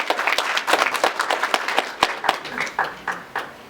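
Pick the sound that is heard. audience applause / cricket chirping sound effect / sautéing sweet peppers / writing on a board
audience applause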